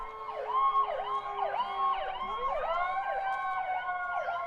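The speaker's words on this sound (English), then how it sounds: "Sirens in the background." Emergency vehicle sirens wail in the distance beside a high school lacrosse game, several overlapping rising-and-falling tones cycling steadily and faintly, alone with no voices.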